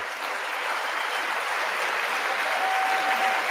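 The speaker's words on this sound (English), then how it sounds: "That's a one-sided applause" Applause from one side of the chamber at a State of the Union address, a continuous even wash of many distant hands clapping with no voices over it.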